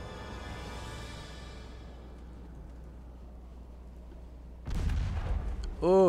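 Naval gunfire in Ultimate Admirals Dreadnoughts: a heavy boom fades into a long low rumble, then a second loud blast follows near the end.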